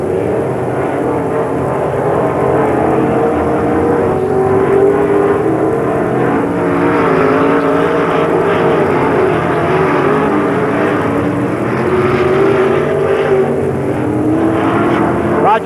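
Sportsman race cars at a 1994 speedway in Knox, PA roar down the back straightaway, a loud, continuous engine drone that swells and blends as the pack passes.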